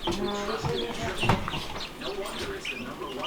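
Young chicks revived after getting cold in the rain chirp and peep in a coop, a cluster of close, high-pitched calls layered over one another.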